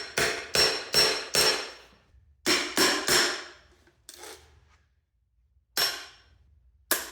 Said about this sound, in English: I'll try my sharpest chisel and a hammer.